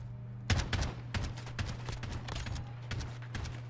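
Rapid AK rifle bursts in the Call of Duty Modern Warfare video game, a string of sharp close shots in quick clusters over a low steady hum, no speech.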